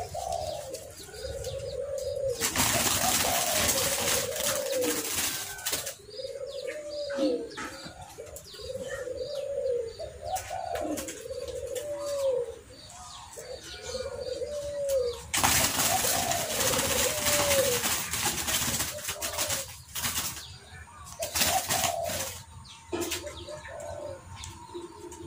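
A female zebra dove (perkutut) held in the hand gives repeated soft rhythmic coos, broken by two loud bursts of wing flapping, close and clear with no talk.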